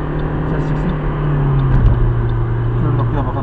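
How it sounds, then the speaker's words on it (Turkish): A car engine rumbles and strains under hard acceleration during driving-test practice on a road route in Windsor, a steady low drone that swells louder midway through. "Arabayı bağırtıralım. Tamamıyla bağırtın ses çıksın."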